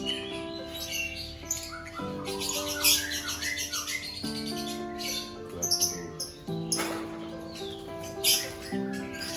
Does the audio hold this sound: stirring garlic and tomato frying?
no